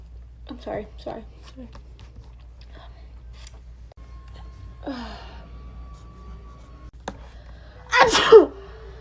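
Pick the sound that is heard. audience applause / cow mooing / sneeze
sneeze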